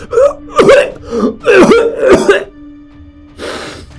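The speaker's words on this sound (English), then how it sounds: "you watch as individuals begin to cough" Several harsh coughs in quick succession, close and loud, followed by a pause and a fainter breathy cough.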